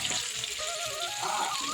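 Ridge gourd slices frying in oil in a home kitchen, a steady close hiss of sizzling that runs evenly throughout with no talk.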